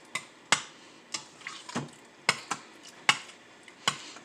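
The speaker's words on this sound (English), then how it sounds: "And I'm going to continue to stir it." A spoon scrapes and knocks against the inner pot of an Instant Pot while Spanish rice is stirred, producing sharp, irregular clicks roughly every half second, close and distinct, with no talking.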